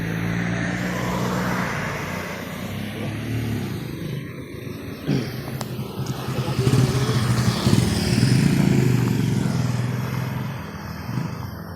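Roadside traffic passes a bus stop at night, with cars and motorcycles droning by. The engine noise is steady and fairly loud and swells as vehicles approach and pass nearby.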